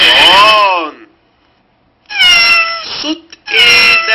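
A cat meows three times in a row, loud and close, each a drawn-out wavering cry separated by short pauses, with no other sounds around it.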